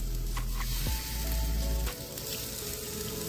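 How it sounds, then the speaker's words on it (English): Asparagus and ginger slices grill in a Ninja Foodi with a steady, close sizzle over a low appliance hum, broken by a couple of soft clunks as pieces are set down. "And let those grill right in here with the asparagus."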